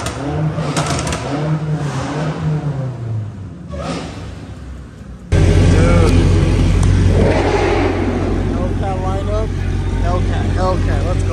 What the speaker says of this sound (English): This sounds amazing. Bro, this matte black HELLCAT is aggressive.